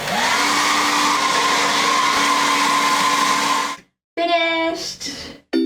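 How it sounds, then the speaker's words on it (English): A handheld hair dryer blows air while drying freshly dyed hair, a loud steady whooshing hum with a constant motor whine for several seconds, then it cuts off and a voice speaks. "you can use a hairdryer to dry it or let it dry naturally"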